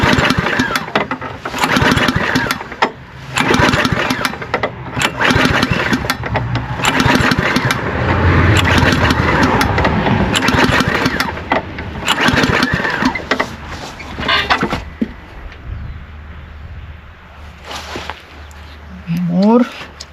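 Repeated pull-start attempts on a small petrol engine with a carburetor that has water in it, sputtering in rough bursts that catch and die, with a brief engine rise near the end and people talking in between.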